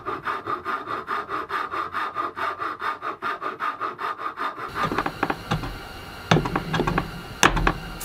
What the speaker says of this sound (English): a few minutes with a rasp and a file will get that cut cleaned up nice